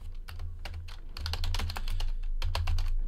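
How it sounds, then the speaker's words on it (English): Fingers tap quickly on a computer keyboard while a list of sports card hits is entered, a close irregular clatter of many keystrokes in bursts over a low steady hum. "And let's type in the hits."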